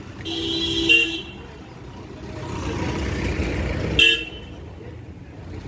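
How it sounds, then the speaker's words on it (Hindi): Two loud car horn toots, about three seconds apart, over a steady rumble of road traffic and engine noise. "पीछे से हॉर्न की आवाज़, तोड़ दो हॉर्न को"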